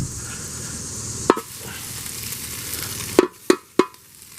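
Ground bone-in Asian carp frying in hot oil with garden vegetables for fajitas, a steady sizzle broken by several sharp knocks and stirring clatters of a utensil against the pan.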